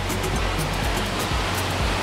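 Dense, loud roar of rushing water at the Upper Düden Waterfall in Kepez, Antalya, a continuous close wash of white noise with no voices.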